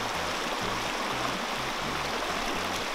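Steady rushing, splashing water fills the clip, a continuous wet churn as a soaked sleeping bag is compressed and water squeezed out, with low thumps underneath.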